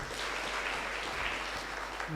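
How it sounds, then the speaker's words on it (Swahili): Steady applause from a church service congregation, continuous broadband clapping with no clear breaks, at moderate loudness throughout. "Tuko na Ken, tumpigie makofi"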